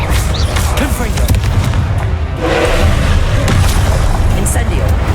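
Confringo fire spell cast in Hogwarts Legacy, a loud booming blast with a dense roaring burst, set among ongoing combat noise and voiced spell incantations.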